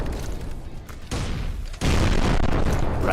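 Explosions in the video game Blood Waves, with heavy low booms stacking into a louder sustained roar, the last blast hitting hardest and rumbling on to the end.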